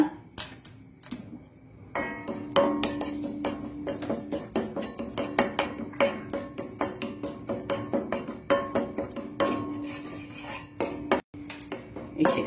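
Curry leaves dry roasted without oil in a pan on low heat for fenugreek chutney, with repeated rhythmic scrapes and clinks of a spoon against the pan, close and steady, no talking.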